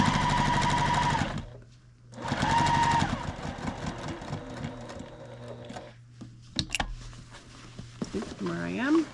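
A sewing machine stitches quilt binding around a corner, running in two loud bursts of steady motor whir separated by a pause, then quieter handling noise and scattered clicks with a brief whine near the end.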